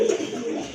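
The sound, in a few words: pigeons cooing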